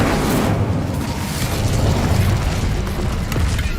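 A fire spell cast in the video game Hogwarts Legacy, a loud continuous roaring whoosh of flame that holds steady for several seconds with no speech.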